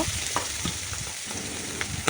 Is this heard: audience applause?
no